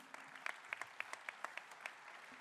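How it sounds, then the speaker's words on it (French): A small audience at a talk gives brief, faint applause, a sparse run of distinct claps heard from some distance for a couple of seconds. "on peut l'applaudir"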